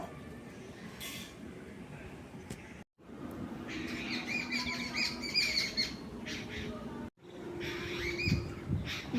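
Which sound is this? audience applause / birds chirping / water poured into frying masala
birds chirping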